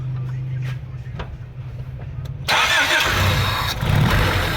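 A Honda Civic engine with a vacuum fault cranks and catches midway through, then settles into a loud, steady running rumble close by, following a quieter stretch with a low hum.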